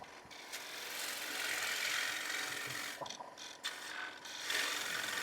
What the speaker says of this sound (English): it's easier to get the bulk of the work done with the gouge